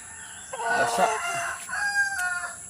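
A rooster crows loudly nearby, a drawn-out cock-a-doodle-doo with some clucking from other chickens around it, the birds wet from rain in the Philippines.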